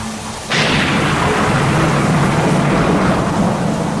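A radio drama thunderstorm with strong cold winds and heavy rain bursts in abruptly as a loud, dense roar and stays steady and sustained throughout.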